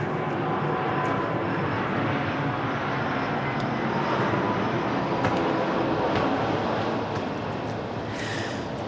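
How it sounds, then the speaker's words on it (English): A steady, broad engine roar of an airplane passing overhead near a Chicago motel, continuous and fairly loud throughout, with no voices. "I don't know if you hear the plane."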